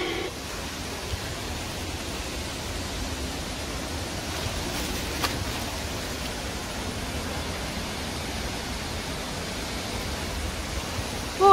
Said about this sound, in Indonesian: Ini air terjun terbesar yang kita lihat ya Pak?